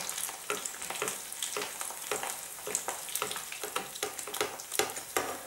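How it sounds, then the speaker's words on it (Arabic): Tunisian brik pastry frying in oil as it is turned over, a steady bright crackling sizzle with scattered sharp pops and spatters, moderately loud and close, no talking. "نرجع ليها الزيت، توا باش نقلبها طيب على وجهها الاخر."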